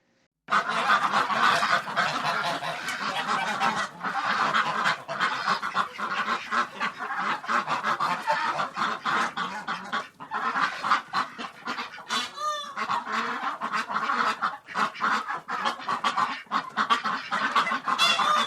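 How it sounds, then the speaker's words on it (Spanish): Ducks quack and honk continuously in a noisy flock, with overlapping calls close by and at a steady, busy rhythm throughout. "pato"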